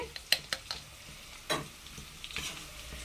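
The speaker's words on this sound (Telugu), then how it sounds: "కాకరకాయ ముక్కలు అయితే మనకు బాగా వేగినాయి. ఈ కలర్ వచ్చిన వరకు కాకరకాయ ముక్కలు వేపుకోవాలండి." Bitter gourd pieces frying in a pan: a soft, steady sizzle with intermittent clicks and scrapes of a spoon stirring, fairly quiet and close, with no talking.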